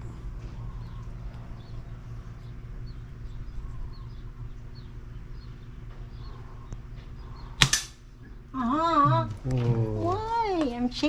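A single sharp gunshot from a soft-trigger gun cracks out loud and close amid steady outdoor background hum, followed by people talking.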